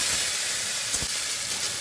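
Chopped tomatoes hitting hot oil in a home kitchen pan, producing a steady close hiss and sizzle with a brief louder burst midway.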